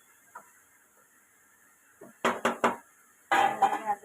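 Curry with drumstick pods being stirred in a pot, a few sharp metallic scrapes and clinks of a spoon against the pot in short bursts amid quiet pauses.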